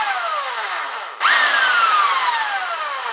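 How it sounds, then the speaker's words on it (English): A power drill bites into a Yamaha Dragstar motorcycle exhaust, starting abruptly and then whining steadily with a slowly falling pitch, loud and close with no talking. "So we take it off hammer and put it on ordinary drill, line the head up"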